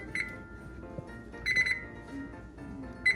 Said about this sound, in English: Now I'm gonna set timer for